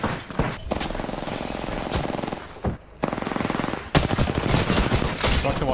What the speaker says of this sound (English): I'm getting shot in the back by a sniper.